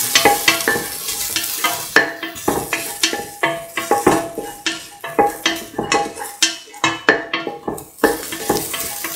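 Shallots and cardamom sautéing in a pan, loud close sizzling broken by a steady run of rhythmic spatula scrapes and clinks against the metal pan.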